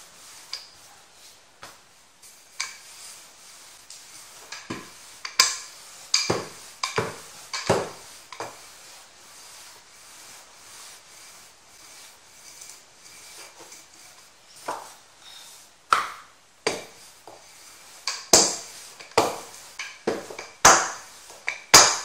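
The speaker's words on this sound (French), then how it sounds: "Sur un plan de travail farinier et à l'aide du rouleau à pâtisserie, je vais aplatir la boule de pâte" A rolling pin flattening a ball of dough on a floured work surface for rezzat el kadi pastry, giving irregular knocks and taps of varying loudness, close and alone.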